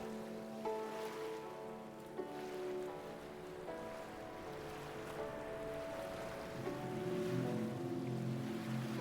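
Calm ocean waves wash in gently under sustained hypnotic tones, a soft continuous surf with a slight swell toward the end, heard faint and distant.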